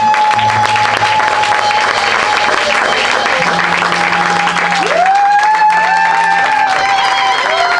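A church congregation at a wedding vow renewal claps and cheers steadily and loudly, a dense wall of applause with a sustained musical tone running underneath throughout.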